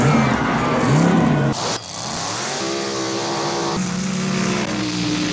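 Race car engines roar in a 1960s drag race scene, loud revving and shifting pitch as cars accelerate, with a brief cut midway before the engine drone resumes.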